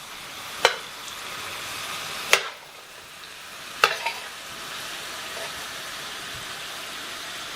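Sausage cooks in a pan with a continuous hissing sizzle, broken by three sharp scraping clacks of a utensil against the pan, nearby and without speech.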